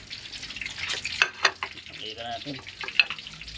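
Duck (itik) frying in hot oil sizzles and crackles with sharp pops and spatters throughout, close and busy, while a person briefly speaks over it.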